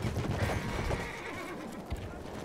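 A horse in the World War I shooter Battlefield 1 lets out a loud, drawn-out whinny, with hooves clattering underneath and battle noise rumbling in the background.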